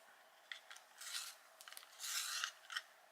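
A coloured pencil is sharpened, giving faint, close scraping and rasping in short irregular bursts, with a few longer grinding strokes in a quiet room.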